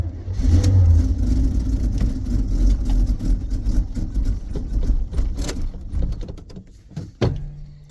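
Engine of a 1982 Itasca Sundancer 21-foot motorhome revving unevenly, loud and close, then dropping off near the end.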